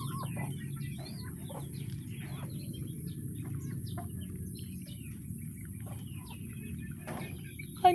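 Faint scattered clucks and chirps from chickens over a steady low background hum, with a brief knock at the very end.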